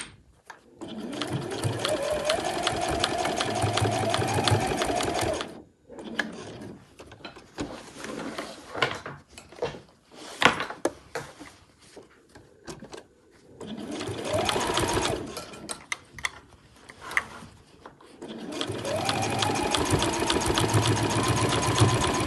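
A sewing machine stitches seams around the corners of a fabric backpack in long whirring runs, stopping and starting several times with clicks as the work is turned, close and loud.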